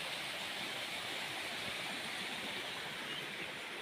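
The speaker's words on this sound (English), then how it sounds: "As you can hear, there is a lot of water coming." Heavy runoff rushes across a farm during the rainy season, a dense, steady hiss of flowing water close by with no pauses.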